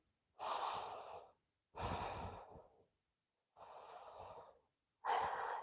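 A person breathes deeply and slowly during seated chair yoga. Four separate breaths, each lasting about a second, are separated by silent pauses and sound close and airy.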